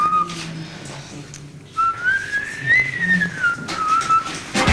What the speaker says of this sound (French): elle siffle.